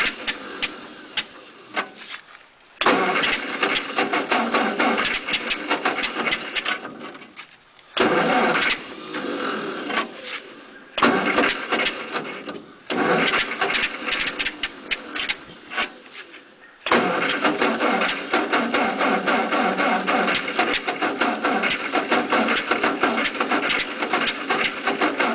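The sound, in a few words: 1948 Ford 8N tractor engine cold start and running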